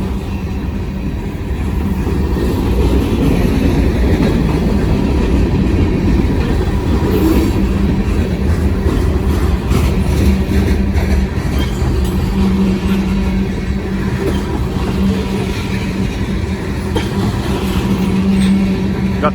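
A long freight train rolls past nearby, a loud, steady rumble of wagons with rhythmic wheel clatter and a faint metallic squeal, continuing unbroken with no talk.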